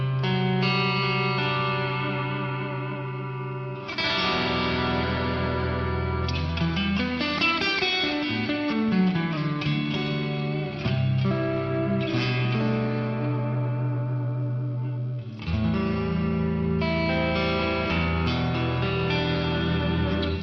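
A clean electric guitar plays sustained chords and arpeggiated notes, each washed in a large, lingering reverb that fills the pauses.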